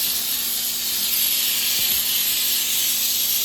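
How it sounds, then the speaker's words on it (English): Hot steam hisses steadily from a steam cleaner pressed on a countertop, a loud, close, unbroken spray of hiss with no voices. "We'll let the hot steam do the work."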